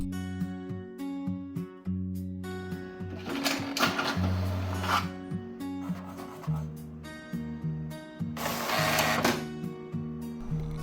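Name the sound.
printer printing an image onto tissue paper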